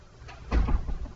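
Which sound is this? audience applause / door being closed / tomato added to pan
door being closed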